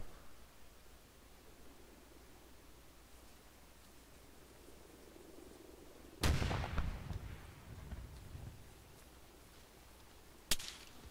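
Gunfire in the ArmA 3 military simulation game, a loud sharp burst of shots with rumbling echo after a quiet stretch of ambient noise, then one more crack near the end.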